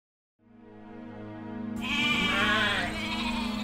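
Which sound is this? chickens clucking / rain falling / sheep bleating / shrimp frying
sheep bleating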